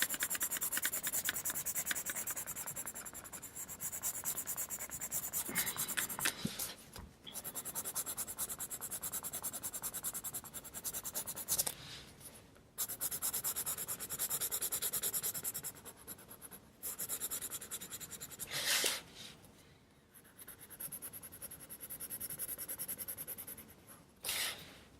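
Pencil drawing and colouring on paper, a continuous dry scratching and rubbing of lead over the sheet with brief pauses between strokes, close and steady with no talk.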